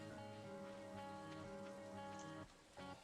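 Steady rain falls in the farming video game Stardew Valley, a continuous patter layered under sustained game music that briefly drops away near the end.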